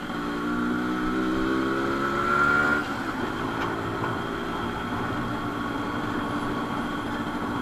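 A modified Yamaha RX100 motorcycle exhaust revs up near the microphone, then drops off sharply and settles into a rough, crackling idle.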